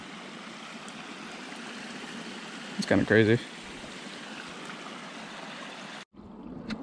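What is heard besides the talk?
water flowing through a ditch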